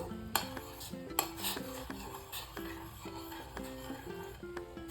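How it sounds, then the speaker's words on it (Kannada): A spoon stirs jowar flour into boiling water in a metal pot, with repeated scraping clinks against the pot sides in an uneven rhythm, close and fairly quiet, with no talking. "ಈಗ ಈ ನೀರು ಕುದಿ ಬರ್ತಾ ಇದೆ ಅನ್ನೋ ಅಷ್ಟೊತ್ತಿಗೆ 1 ಸ್ಪೂನ್ನಷ್ಟು ಜೋಳದ ಹಿಟ್ಟನ್ನು ಹಾಕ್ಕೊಂಡು ಮಿಕ್ಸ್ ಮಾಡಬೇಕು"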